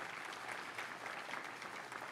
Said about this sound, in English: I want a round of applause for Dr. Willie Hagan